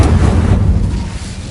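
A fire spell cast in Hogwarts Legacy, a brief heavy whooshing burst with a deep low rumble that fades over about a second and a half, loud and close.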